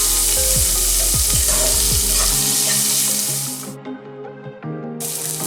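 Onions frying in a pan for egg biryani, a loud close sizzle with stirring scrapes that cuts off abruptly partway, leaving quieter clinks and a brief return of sizzling at the end.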